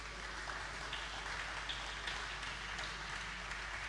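An audience at a public lecture applauds, a faint, steady patter of many hands clapping heard from a distance, with a low hum underneath.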